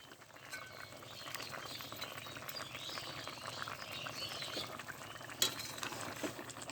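Mrigal fish curry with spinach stems and turnip simmers quietly in a pot, a faint steady bubbling broken by soft stirring and the odd clink of a utensil, with one sharper knock near the end.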